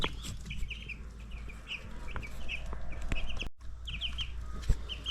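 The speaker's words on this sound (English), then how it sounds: "So here are the meat birds that you've seen before." Meat chickens cluck and chirp in a brooder, most of them huddled under a heater; soft, overlapping clucks and peeps run continuously at close range over a steady low hum.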